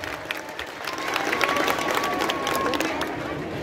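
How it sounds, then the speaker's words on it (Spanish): A crowd at a political rally applauds and cheers in a steady, swelling wash of clapping, a high electronic tone running faintly through it, with some voices mixed into the noise. "Fuerte los aplausos, por favor. ¡Que se escuche!"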